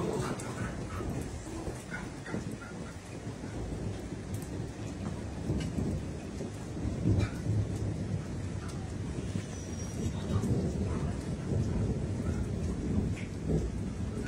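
Steady rain pours down with a broad hiss, and low rumbling thunder builds in the background, growing a little louder toward the end.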